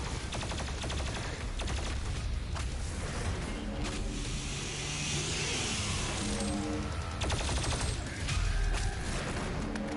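The BFG 10,000 cannon fires in the Doom Eternal video game: heavy booming blasts and rapid mechanical bursts, loud and dense, with a charging whine and a swelling roar near the middle, and no talk.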